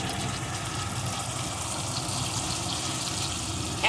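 Water is poured into a cooking pan of spice mix with salt and a little sugar for an egg curry, giving a steady, close gushing splash that runs continuously without pause.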